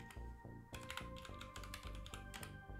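Rapid clicking keystrokes on a computer keyboard as a password is typed, a steady close-up patter of key presses with no talk.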